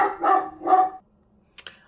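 A dog gives two loud close barks in quick succession, followed by silence and two brief faint knocks.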